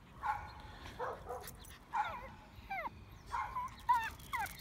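A dog out on a walk outdoors whimpers and yips in repeated short bursts, several high rising whines and yelps spaced across a few seconds, fairly faint with no talk.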